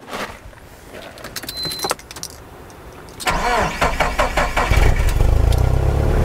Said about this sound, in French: je peux démarrer mon 4x4 pour que le produit circule